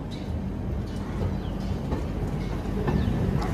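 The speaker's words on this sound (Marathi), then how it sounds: "आणि गाडी निघालेली आहे." The Mandovi Express pulls out of Ratnagiri station during the monsoon, a steady low rumble and rolling noise with faint higher squeals and a few distant bird calls, continuous with no voices.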